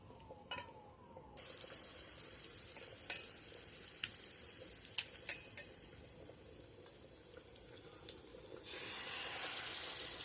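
Pakoras fry in hot oil in a small wok, a faint steady sizzle broken by scattered sharp pops and clicks that swells louder and brighter toward the end.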